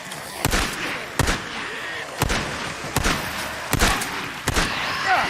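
Skizzo firing a gun in Days Gone: six sharp, loud shots spaced unevenly, each cracking out and fading with a short echo.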